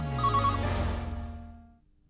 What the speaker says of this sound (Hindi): फोन नहीं उठाना, फोन नहीं उठाना।